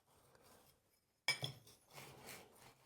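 A flat blade is rubbed across the hardest sharpening stone, quiet rasping strokes that stop for a moment and then resume in a louder abrasive scrape with a faint metallic tick, close and alone.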